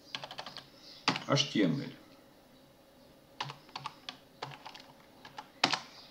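Short bursts of keystrokes as a Linux terminal command is typed on a computer keyboard, close and clear, with brief pauses between bursts and a spoken phrase partway through.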